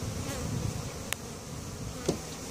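Honey bees hum in a crowded hive while a honey super is added, a steady close buzzing throughout with a couple of brief sharp clicks.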